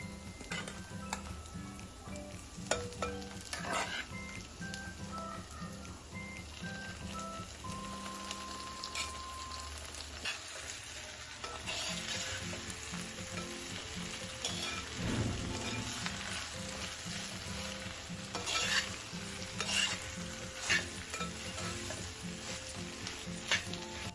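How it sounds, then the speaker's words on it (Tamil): Boiled siru kizhangu tubers being stir-fried for a poriyal in a pan. A steady low sizzle runs throughout with occasional stirring scrapes and faint ticking, fairly quiet and close, with no voices. "இப்போ நல்லா வதங்கிட்டு வெந்து வச்சுருந்தோமா அந்த கிழங்க"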